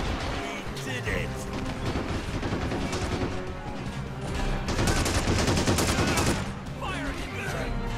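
Dense, continuous soldier gunfire from Men of War Assault Squad 2: overlapping rifle and machine-gun bursts with heavy artillery-like booms. It stays loud and busy for the whole stretch, swelling slightly toward the middle.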